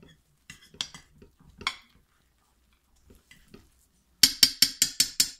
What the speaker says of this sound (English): Probably one more stir.